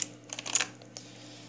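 A computer keyboard is handled and set up on a desk, giving a short run of faint clicks and taps, then quieter scattered knocks.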